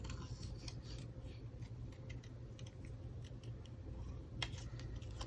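Faint snipping of scissors through cardstock, several small cuts spread over a quiet, steady background hiss.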